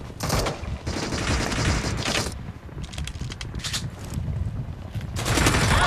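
A Desert Eagle pistol fires in a battle royale shooter game. Several loud gunshot bursts come in quick clusters with short gaps between them, over constant game noise.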